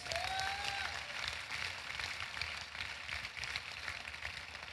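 A church congregation claps their hands in a steady, sustained wash of applause, moderately distant and even, with a brief voice or whistle-like tone near the start.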